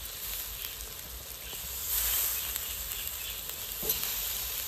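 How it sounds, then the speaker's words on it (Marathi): Washed potatoes hit a hot pan for a gram-and-potato shak bhaji, giving a soft, steady sizzling hiss that stays fairly faint and swells slightly midway, with no talking. "आता आम्ही बटाटे धुवून ठेवलेले ते टाकून घेते"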